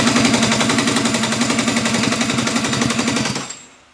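Go-kart engine being cranked but failing to start, a loud rapid chugging pull-start rhythm of compression pulses for about three and a half seconds, then trailing off into quiet.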